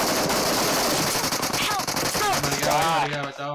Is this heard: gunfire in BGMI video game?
yes